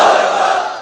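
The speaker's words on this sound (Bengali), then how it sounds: "সবাই মিলে তিনটা পড়েন লিল্লাহি তাকবীর।" A large crowd at an Islamic sermon gathering shouting takbir together in unison, one loud, sustained collective shout.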